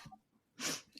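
A single soft sneeze, short and breathy, preceded by a faint intake of breath in an otherwise quiet space.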